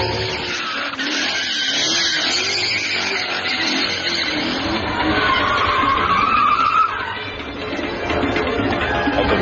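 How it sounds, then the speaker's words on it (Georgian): BMW coupes drifting at a street drift show on a bridge, tires squealing and skidding in long sustained screeches over revving engines, loud and continuous with a surge midway. "მეტეხის ხიდზე გაიმართა დრიფტ შოუ BMW-ს მოდელის მანქანების მონაწილეობით"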